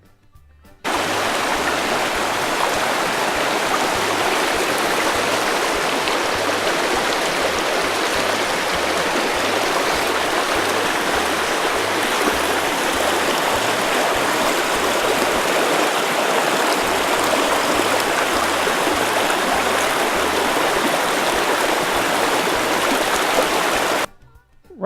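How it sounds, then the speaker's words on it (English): A brook flows beneath a bridge on a wooded hiking trail near MacDowell Dam in Peterborough, New Hampshire, a dense steady rush of water heard up close and unbroken for the whole stretch, with no voices. "This is a really nice view of the brook."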